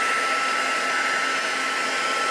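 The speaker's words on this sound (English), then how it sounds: "you can let these air dry naturally, or you can use your heat tool" A heat tool blows steadily to dry an inked card base before die-cutting, a constant loud whooshing hiss with no break.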